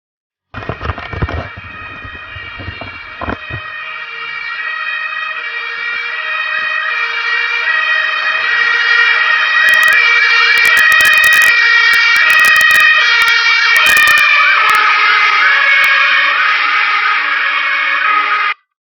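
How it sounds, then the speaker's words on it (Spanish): An ambulance siren wails loudly and continuously, rising as it closes in, then its pitch shifts downward as it passes, with brief clicks and knocks at the start and a few sharp crackles partway through. "Cuando se acerca la ambulancia tiene un cierto sonido. Cuando pasa por tu lado tiene otro"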